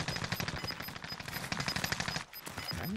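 Call of Duty Warzone gunfire, rapid automatic bursts crackling in quick rhythmic strings, fairly close and steady for most of the stretch, pausing briefly before resuming.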